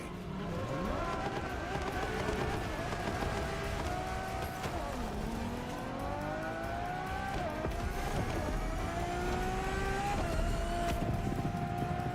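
A Ferrari road-legal hypercar built like a Formula One car, with Pininfarina design, drives in the game The Crew Motorfest, its engine note climbing and dropping through gear shifts in a steady, close, continuous run.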